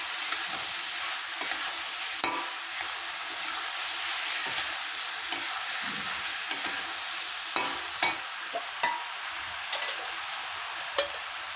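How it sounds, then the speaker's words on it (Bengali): Bottle gourd with ginger sizzles softly in a pan while a utensil scrapes and stirs, giving irregular taps and clinks over a steady frying hiss, close and fairly quiet. "আদা দিয়ে ভালো করে নেড়ে চেড়ে নেব।"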